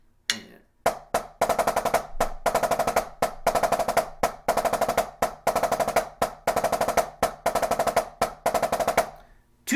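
Drum strokes played in a repeating pattern, a beat of even eighth notes followed by a quicker beat of sextuplets using rebound strokes, cycling steadily and up close for about nine seconds with no talking.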